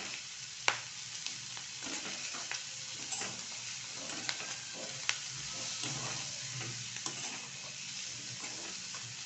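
Chigal greens are mixed in a hot pan, giving a quiet continuous sizzle with scattered small clicks and spoon taps throughout; no one speaks.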